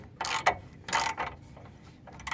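A ratchet tightening the bottom bolt of a new shock absorber on a 2004 Nissan Navara D22, giving a few short, close clicking bursts with pauses between them and no talking.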